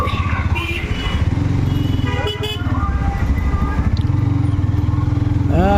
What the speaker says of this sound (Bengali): বাইক মানেই চিপা চাপা দিয়া ধুমধাম করে যাওয়া আর কি, এইভাবেই আসলে রাস্তাঘাট ক্রস করতে হয়